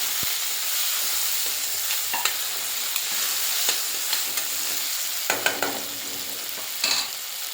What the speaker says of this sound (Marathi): त्याला सुद्धा आपल्याला छान फ्राय करून घ्यायचं आहे तेलामध्ये.